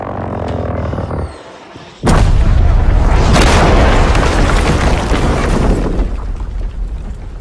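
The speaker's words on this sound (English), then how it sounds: "That's the rockets!" Rocket explosions in a cinematic trailer for Overkill's The Walking Dead game: after a brief lull, a sudden massive boom erupts into a long, roaring blast that slowly decays, loud and close.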